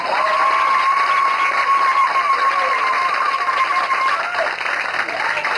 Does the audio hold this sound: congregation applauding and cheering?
yes